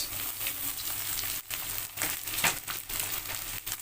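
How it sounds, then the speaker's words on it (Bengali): Diced onions and capsicum sizzle and crackle in a pan of hot oil for chilli paneer, with some rustling stirs. The sound is close, moderately loud and has no talk. "এবার আমি এর মধ্যে একে একে দিয়ে দিচ্ছি ডাইস করে কেটে রাখা পেঁয়াজ"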